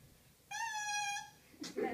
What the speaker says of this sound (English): this is what the reed sounds like by itself. It sounds like kind of like a little kazoo or something.